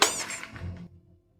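Eggs dropping and breaking: a sharp crack and squeaky shatter at the start, then a dull low thud and settling clatter that fades out within about a second.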